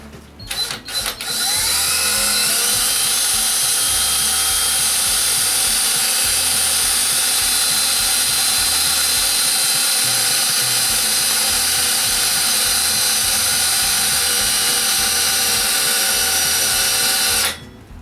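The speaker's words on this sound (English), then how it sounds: "The old drill bit." A loud power drill whines continuously for about sixteen seconds after a few short starts, then cuts off abruptly.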